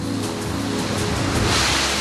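Ocean surf at a harbour in Singapore, a loud continuous wash of waves with low engine-like rumble underneath, swelling brighter toward the end.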